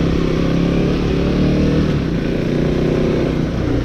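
A 2026 Kawasaki KLX300 dirt bike engine drones steadily and loudly while being ridden on a road, a continuous close motor hum with no talk over it.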